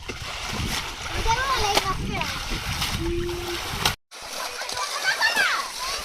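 Water splashes repeatedly as a family bails out a large pond to catch fish, loud irregular sloshes and splatters close by, mixed with children's and adults' voices talking.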